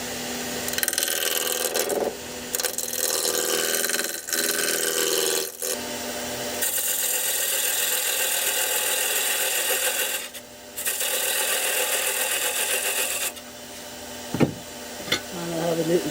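Wood spinning between centres on a lathe is roughed down with a roughing-out gouge, giving a continuous loud rasping, scraping cut with brief pauses and a few sharp knocks near the end.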